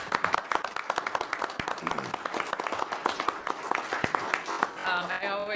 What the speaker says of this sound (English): could we just give Ron a round of applause?